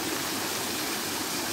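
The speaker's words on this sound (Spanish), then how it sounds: "Desde aquí el río, con esa preciosa cascada, sigue su camino libre," Steady, even rushing of a river pouring over a cascade at a river beach in Maceira. The broad wash of water is constant and fairly close, with no voices.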